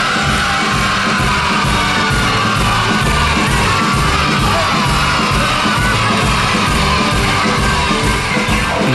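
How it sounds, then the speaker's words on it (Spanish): A television studio audience roars for the clowns Fofó, Miliki and Fofito, a loud continuous wall of yelling, whooping and clapping that stays dense and unbroken from start to finish. "Vamos a recibir con mucha alegría, con un aplauso bien fuerte, todo el aplaudir, a Fofó, Miliki y Fofito."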